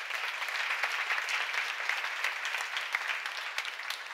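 Applause fills a church seminar hall, a dense, steady patter of many hands clapping continuously at moderate volume with a few sharper claps standing out.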